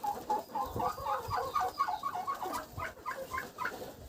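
A broody hen sitting on eggs that are starting to pip, clucking in a steady series of short, close, repeated calls with no one talking.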